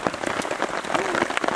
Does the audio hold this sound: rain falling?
yes